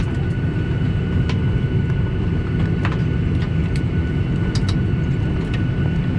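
Steady, loud cabin roar inside a Norwegian Boeing 737-800 in flight, a constant low engine and airflow drone with faint occasional clicks.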